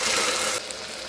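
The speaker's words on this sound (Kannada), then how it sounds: "ಸ್ವಲ್ಪ ಚೆನ್ನಾಗಿ ಫ್ರೈ ಮಾಡೋಣ." Soaked mixed legumes fry in a hot pan with a loud, dense sizzle that drops abruptly about halfway through to a quieter, softer hiss.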